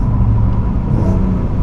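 A 510 bhp BMW M4 Competition engine rumbles deep and loud while the car is driven, a steady, close, low drone with no talk over it.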